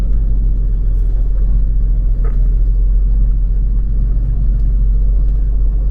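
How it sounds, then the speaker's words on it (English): An RV rolling along I-10 over a grooved road surface, a heavy, constant low rumble with faint intermittent clunks from the wheels, loud and steady inside the cabin with no talking. "You see those little groovy thingies in the road? It's just all like clunk, clunk, clunk"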